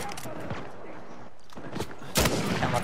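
Sniper rifle fire in the co-op mode of Uncharted 4, with scattered gunshots and game noise followed by one sharp, loud crack near the end.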